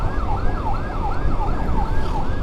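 A wailing escort vehicle siren sweeps up and down in a regular rising-falling cycle, loud and close, with road noise beneath and no talk.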